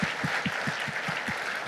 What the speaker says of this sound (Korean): 우리 큰 박수로 우리 새가족들을 환영하겠습니다.